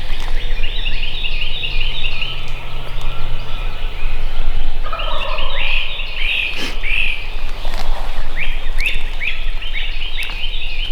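A wild turkey gobbler roosted at the edge of a field sounds off with loud, rattling gobbles in repeated bursts, over a constant backdrop of chirping insects and frogs.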